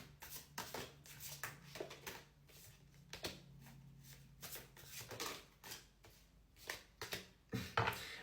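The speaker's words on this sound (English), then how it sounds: "Let's get some cards from the What's the Tea deck." Playing cards from a What's the Tea tarot-style deck are shuffled by hand in a run of quick papery riffles and flicks, close and clear, with brief pauses between bursts and no talking.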